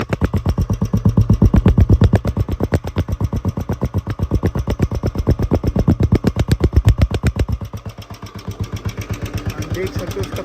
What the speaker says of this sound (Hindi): This is called legendary iconic old bullet.